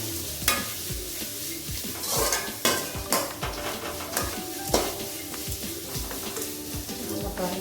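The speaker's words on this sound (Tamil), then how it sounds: "நான் நல்லா நெல்லிக்காய் நல்லா ஃப்ரை ஆகட்டும்" Gooseberries frying over a medium flame while a spatula stirs them in a pan, with a loud, busy run of scraping and clanking strokes over a constant sizzle and no voice.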